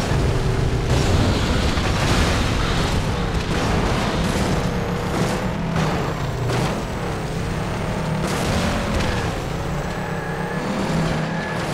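Racing game Crash 'N Burn on a PS2 emulator: continuous loud car engine roar with booming crash impacts and debris clatter across the track, no talk.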